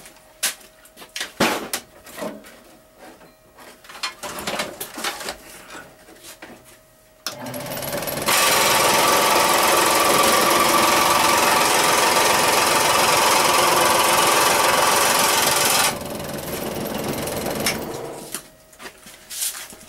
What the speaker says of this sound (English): I just took a scroll saw and cut it off to the length I just measured out.